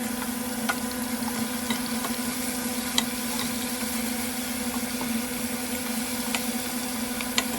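Chopped onions frying in oil as a curry base, giving a steady close sizzle with faint crackles and pops throughout and no talking.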